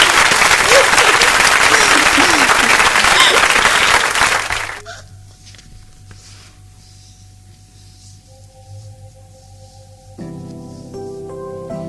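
An audience at a children's storytelling show applauds loudly and densely for about four seconds before the clapping cuts away to near quiet, followed by soft tones and the start of music.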